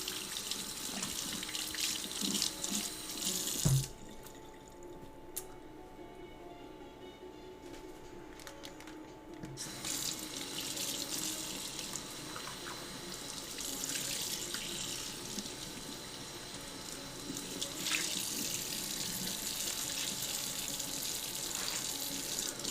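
A kitchen tap runs while a breakfast is cooked at home, a steady close splashing stream that cuts off for a few seconds, then flows again for a long stretch.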